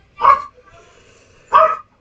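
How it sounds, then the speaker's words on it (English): A dog barks twice, loud and close, the two sharp barks about a second apart with quiet between them. "Sorry about the rude mother frickin' dog."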